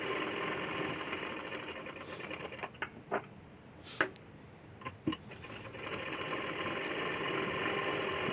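A sewing machine stitches folded strips for a katori blouse, running in a close steady whir that pauses briefly midway with a few sharp clicks and taps before resuming at an even pace.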